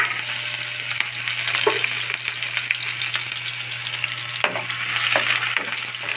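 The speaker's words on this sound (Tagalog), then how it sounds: "meron na tayong pinainit na mantika. Lagyan natin itong bawang at" Garlic and onion sauté in hot oil in a pan, a steady dense sizzle with a few scraping stirs, close and continuous with no talking.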